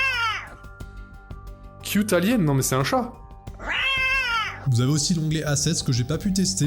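A prerecorded cartoonish cat meow sound effect from a metaverse editor plays several times in drawn-out, wavering cries, with someone talking in French over and between them.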